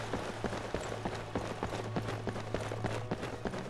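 Hooves of a horse in the Skyrim video game clop along at a steady, rapid gallop rhythm over a constant low hum, moderately close and alone with no voices.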